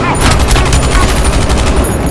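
Rapid gunfire in the horror film V/H/S/94, a loud dense burst of shots fired in quick succession with no pauses.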